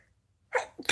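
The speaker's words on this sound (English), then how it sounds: "I'm going to sneeze in a minute." A single sharp sneeze from a woman, close and loud, bursting out after a second of near silence with a brief intake and then the explosive release.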